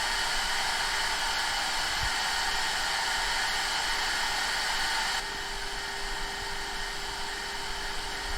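A CNC router cutting a chess piece base on a rotary axis gives a steady, loud broadband whine with constant machining hiss, dropping slightly in level partway through, with a faint knock near the start and no talk.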